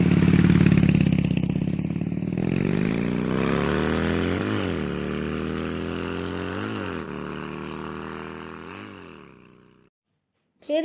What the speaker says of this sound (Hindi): फिर चिंटू उस लड़की को बाइक में बैठाकर अपने घर ले आया